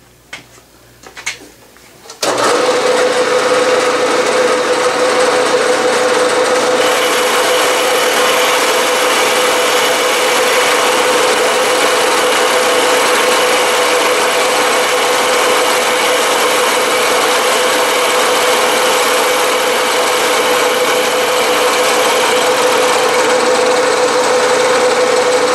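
A metal lathe takes a final cutting pass on a lead hammer mold, starting after a few soft clicks and then running as a steady, loud motor hum with a constant whine.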